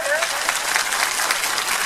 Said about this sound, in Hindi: इनके लिए सबको एक बार जोरदार तालियां बजा दीजिए।